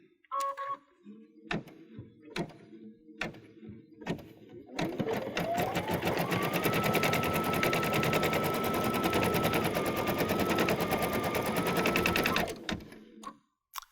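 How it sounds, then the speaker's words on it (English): Baby Lock Pathfinder embroidery machine stitching a design onto a onesie, a few isolated clicks first, then a loud steady rapid needle rattle with a whirring motor running for about eight seconds before stopping. "we're going to put our needle down"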